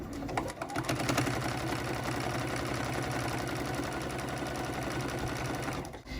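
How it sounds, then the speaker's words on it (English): A sewing machine stitches a quilt binding at a slow, steady pace, giving a continuous close rhythmic whir that stays even for several seconds before stopping near the end, with no talking. "I'm going to slow stitch till I get over the fold"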